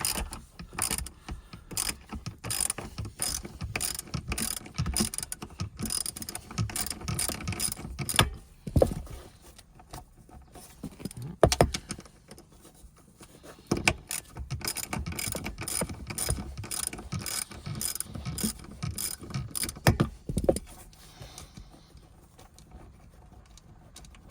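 Rapid clicking of a ratchet fitted with a shallow 10 mm socket turning a bolt during an impact sensor install on a Nissan Frontier, in close bursts of quick ticks separated by short pauses.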